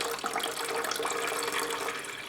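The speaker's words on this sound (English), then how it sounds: "So you carefully pour off the water that's on top" Water is carefully poured off the top of a settled mixture while making traditional ormus manna, a close, steady splashing trickle lasting a couple of seconds.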